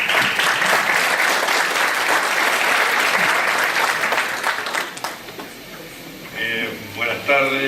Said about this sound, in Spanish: Recibamos con un fuerte aplauso al doctor Eduardo Barcesat.